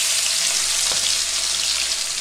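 Marinated chicken frying in mustard oil, a dense continuous crackling sizzle close up, unbroken and loud with no voices.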